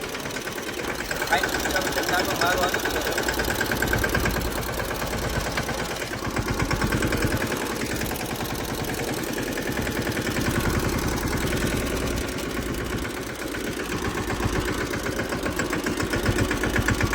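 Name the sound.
tractor engine running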